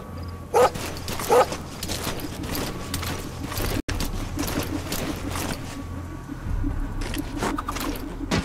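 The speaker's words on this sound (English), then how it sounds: "Bark." A dog in the Metal Gear Solid V video game gives two short barks early on, heard over a quiet background of mechanical game ambience and clicks.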